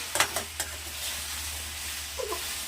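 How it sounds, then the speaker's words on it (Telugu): Okra dry-roasts in a hot pan with no oil, giving a faint, steady sizzle under a low hum, with a few soft scrapes and taps as the pieces are stirred near the start and again near the end. "ఫస్ట్గా అలాగే కొద్దిసేపు వేయించాలండి, ఆయిల్ లేకుండానే"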